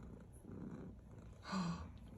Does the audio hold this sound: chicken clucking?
no